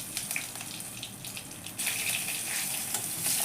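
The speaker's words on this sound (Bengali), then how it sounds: "1 চামচ মতো জিরে ফোড়ন দিলাম" Cumin seeds and dried red chilli fry in hot oil with a hissing sizzle that swells into a louder, brighter spatter halfway through, close and unaccompanied by speech.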